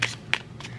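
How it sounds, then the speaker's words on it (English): Playing cards are shuffled in a classroom, three quick soft riffling bursts, close and brief. "let me shuffle them first"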